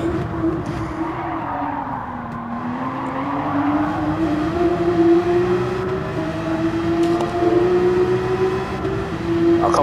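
A Gr3 race car laps Bathurst flat out in Gran Turismo 7, its engine a loud, continuous, high-revving drone that dips slightly and climbs again as it shifts and accelerates, with no talking.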